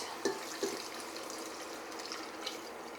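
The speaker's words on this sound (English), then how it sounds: "I'm gonna pour in my liquid." Liquid poured into a pot of tomato carrot soup, a steady soft rushing wash of water with a couple of small splashes early on, close and continuous throughout.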